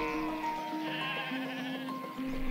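Several sheep bleat in overlapping, wavering calls, fairly close and steady throughout with no talking.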